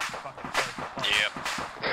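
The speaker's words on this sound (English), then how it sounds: "Careful, the explosion's going off." Gunfire and explosions in a military shooter game: a run of sharp, close bursts with a hissing high streak midway, over a dense, busy background with faint voices.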